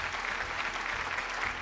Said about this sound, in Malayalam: ഒരു നല്ല കൈയടി കൊടുത്തേ